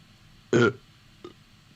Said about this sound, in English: Good old burp, yep.